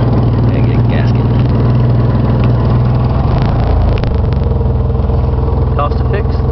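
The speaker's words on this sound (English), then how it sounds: "Still got a bad exhaust leak somewhere." Loud, steady idling engine of a 1995 MPV with a bad exhaust leak, a continuous low rumble with a slight surge midway and close, constant level throughout.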